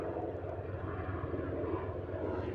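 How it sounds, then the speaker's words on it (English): A Coast Guard helicopter flying overhead, its rotor producing a steady, rapid thumping pulse over a deep engine drone, fairly close and continuous throughout. "That's a Coast Guard helicopter."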